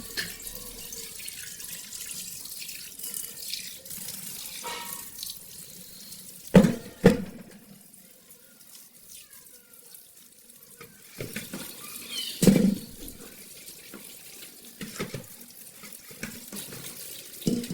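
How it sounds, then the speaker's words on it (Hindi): Rice being rinsed in a strainer under a running kitchen tap for a biryani, a continuous moderate stream of water with a few sharper splashes and clatters as the grains are shaken. "और अब चावलों को छानने में निकाल के अच्छे तरीके धो लेंगे।"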